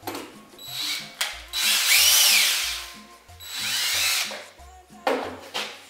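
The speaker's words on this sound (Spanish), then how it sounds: "El taladro." A power drill removing a screw whirs in two bursts, rising and falling in pitch as it runs, separated by brief pauses and light handling clicks.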